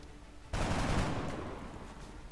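Gunfire from the XCOM: Enemy Unknown video game, a sudden burst of rapid shots that starts after a quiet half second and decays into a fading rattle, fairly faint overall.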